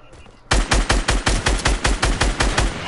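Rapid automatic gunfire in Fortnite, a steady burst of about a dozen loud, evenly spaced shots that starts abruptly after a short quiet lead-in.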